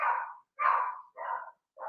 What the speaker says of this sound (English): we got dog problems outside